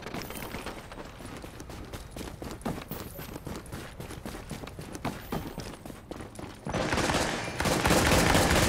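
Dense, continuous video-game gunfire pounding a fortification, rapid overlapping shots at steady loudness that swell louder and harsher toward the end, with a faint voice beneath.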